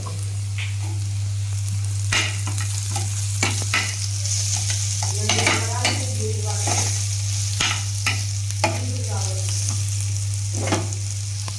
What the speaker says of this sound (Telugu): పచ్చిమిరపకాయలు ఈ విధంగా వేసుకొని బండిలో బాగా అటు ఇటు తిప్పిపడేయాలి